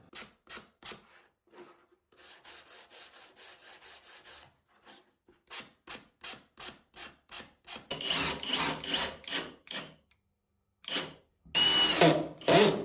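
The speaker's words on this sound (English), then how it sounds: "giving it a chamfer with a block plane and then some light sanding." A block plane chamfers the edges of a wooden dog feeding station in short rhythmic scraping strokes, then a sanding block rubs lightly over the wood in faster bursts, close and clear, no talking.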